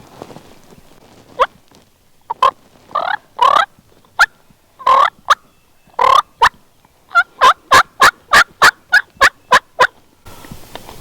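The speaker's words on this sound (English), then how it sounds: "They're gobbling just where we thought they'd be." Wild turkeys gobbling on a Kentucky ridge during spring youth turkey season, repeated loud gobbles and clucking calls at mid distance, ending in a rapid run of evenly spaced sharp calls, with no talk over them.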